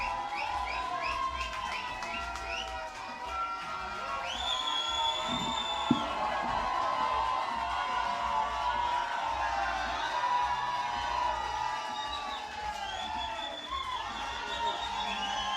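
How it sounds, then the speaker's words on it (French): A concert crowd at the Sakifo festival's Salle Verte cheering, whooping and shouting with high whistles over a steady roar of applause, while a voice speaks over it. "Et un gros applaudissement pour vous autres, s'il vous plaît."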